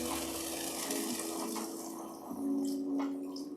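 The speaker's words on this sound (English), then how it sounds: "Then we're gonna do the beef broth." Beef broth pours from a measuring cup into a pan for beef stroganoff, a short continuous liquid gush and splash, close and moderately loud, no talking.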